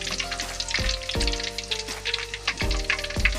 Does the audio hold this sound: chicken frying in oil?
yes